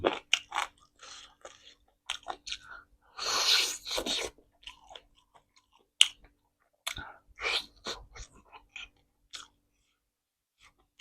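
Close, crisp crunching and chewing of fried chicken in a rich Thai-style dish, with repeated bites and wet mastication coming in irregular bursts and no talking.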